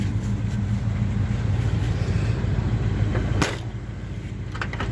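A 1975 Chevrolet C10 pickup engine idles steadily up close, a low even rumble that drops slightly in level partway through, with faint clicks near the end.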